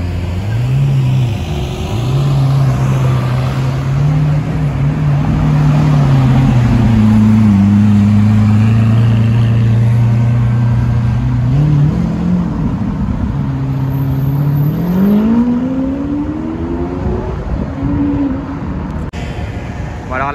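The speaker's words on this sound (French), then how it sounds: "je sais que c'est une Aston, je crois 3 litres de Le Mans ou un truc comme ça" A classic Aston Martin 3-litre Le Mans car on a Paris street drives past loud and close, its engine drone rising and falling, then climbing sharply as it accelerates away, with no talk.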